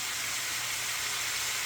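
Hamburger meat and a medium onion sizzle in a pan, a steady, close, even hiss with no other sounds over it.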